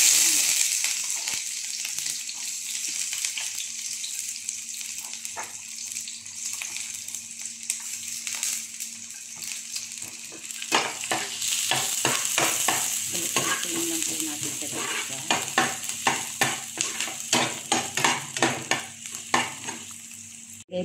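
Onions, garlic and chilies sizzle steadily in hot cooking oil for a Filipino dish, with a busy frying hiss throughout and repeated scraping stirs growing louder and more rhythmic in the second half, no talking.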